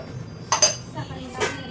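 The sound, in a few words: adding sugar to tea in a pot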